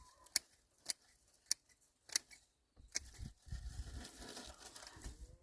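Garden plant stems cut with shears or scissors, four or five distinct crisp snips spaced about half a second apart, close and clear, then rustling of foliage and handled stems.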